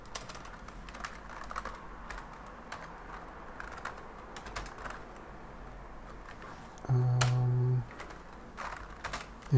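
Typing on a computer keyboard during a Linux development session, a steady patter of quiet keystrokes throughout, then a brief louder steady tone near the end.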